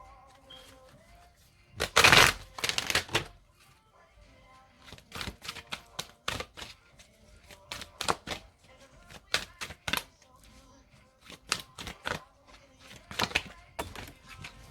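Tarot cards shuffled by hand, a burst of riffling near the start followed by a long series of short, crisp card flicks and taps at irregular intervals, fairly close and clear with no talking.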